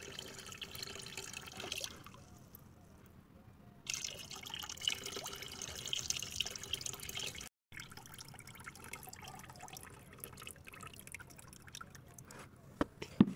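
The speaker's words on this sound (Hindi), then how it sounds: "जो पानी है इसको ऐसे हम डाल लेंगे" Water from soaked banana peels being poured into a potted plant, trickling and dripping unevenly in close, quiet bursts with a brief cutout midway.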